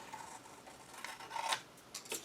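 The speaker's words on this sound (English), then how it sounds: "Okay, scissors, guys. All I'm going to do is cut right on that line." Scissors cut along a drawn line on paper for a mini album craft project, a quiet close snipping and rasping with a few sharper crisp cuts near the end.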